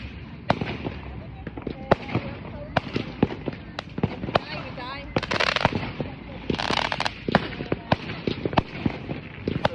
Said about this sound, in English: Guys, we're sat dangerously close to the fireworks and the particles landed on me back.